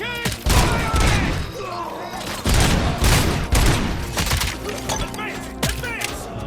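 Heavy automatic gunfire in the RoboCop Rogue City video game, dense overlapping bursts and impacts with shattering debris, loud and continuous, mixed with shouted voices from soldiers.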